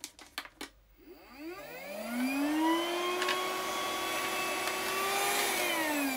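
A small SHEIN vacuum cleaner starts with a few clicks, then its motor whine rises and settles into a steady, moderately loud hum that holds to the end.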